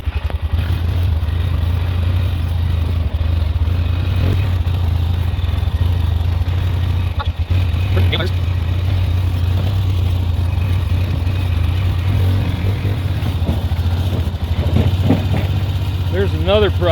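An ATV engine idles steadily with a log ride trailer hitched behind, a continuous low rumble with occasional clatter from the rig, heard close and fairly loud throughout.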